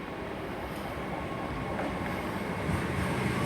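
Southbound Inverness to London King's Cross train pulling into Haymarket station, a continuous broad low rumble and rushing drone, steady and fairly loud throughout with no voices.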